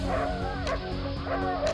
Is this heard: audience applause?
no